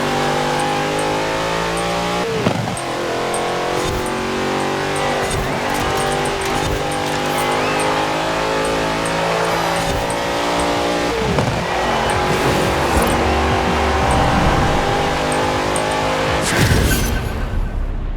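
Loud, continuous exhaust note from an Ascari supercar driven in Forza Horizon 4, revving up and easing off across gear shifts with brief tire squeals, before cutting off abruptly at the end.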